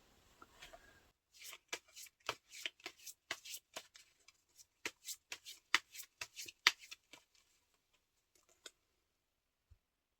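Tarot cards are shuffled and drawn for a love reading: a rapid run of crisp flicks and taps, close and fairly quiet, starting after a soft rustle and thinning out into a few last clicks, with no talking.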